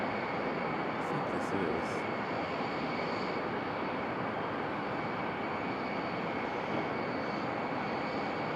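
Gulfstream G550 jet at Raleigh-Durham airport, a steady moderate engine rumble and hiss with a faint high whine throughout, while a person speaks briefly over it.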